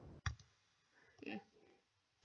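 A single sharp computer-mouse click sounds up close during a prop hunt game, followed by faint, indistinct low sounds in a quiet room.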